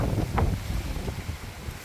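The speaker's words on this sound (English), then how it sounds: "it's been a nasty weekend of wind" Strong, damaging wind buffets an outdoor garden, with low rumbling gusts and microphone wind noise rising and falling throughout, loud and continuous with no talking.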